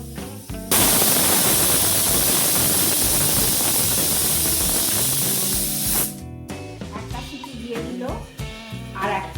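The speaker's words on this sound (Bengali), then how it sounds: "শুধু অনলি জল দিয়ে রাঙালোগুলো সিদ্ধ করতে দিলাম দুটো সিটির জন্য অপেক্ষা করছি" A pressure cooker boiling chopped sweet potatoes in plain water lets out a loud, steady jet of steam that hisses for about five seconds and then cuts off, leaving a quieter clatter behind.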